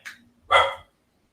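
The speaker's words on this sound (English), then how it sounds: "it's barking at the miniature horse in the back paddock." A dog barks near a back paddock with a miniature horse: one single sharp, loud bark close by, preceded by a faint short yip, then quiet.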